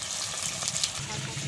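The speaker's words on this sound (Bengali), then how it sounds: "যে মাছগুলো নুন হলুদ মাখিয়ে নিয়ে এই যে ভাজা হচ্ছে" Bhetki fish pieces coated in salt and turmeric fry in hot oil, giving a steady close sizzle and crackle throughout with no pauses or talking.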